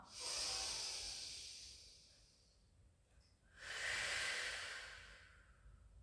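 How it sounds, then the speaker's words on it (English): Slow, deep breaths during a gentle pilates exercise: a long soft exhale fades out, then after a short pause another airy breath swells in, quiet and close. "inhale, let the belly rise. Out breath, release."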